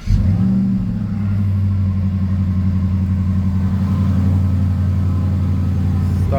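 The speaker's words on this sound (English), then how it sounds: "Alright guys, so we're about to start the car." A Jaguar XF fitted with a lithium battery starts instantly with a sharp onset, then settles into a steady low rumbling idle heard close by with no talking.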